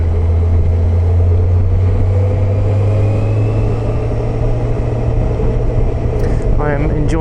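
Honda CBF1000 motorcycle being ridden, a steady loud engine drone with strong low rumble and wind roar throughout, pitch holding fairly even with a slight rise near the end.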